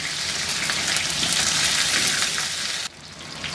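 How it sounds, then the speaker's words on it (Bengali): Medium-sized cauliflower florets fry in hot oil with a steady, loud sizzling hiss that holds even, then drops abruptly near the end. "এইগুলাকে একটু ভেজে নিতে হবে আমার"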